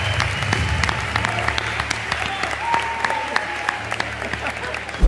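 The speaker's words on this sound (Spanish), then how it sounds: "Un aplauso, amigos y amigas, para el rey de la pista." A crowd applauds the king of the ring at a fight night, with sharp claps and scattered cheering over a steady low musical drone and tones.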